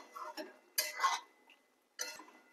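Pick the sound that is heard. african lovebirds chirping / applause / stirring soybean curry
stirring soybean curry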